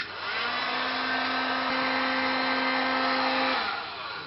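A hot air blower runs with a loud, steady whooshing roar while warming the inside of a drinking horn, winding down briefly at the end.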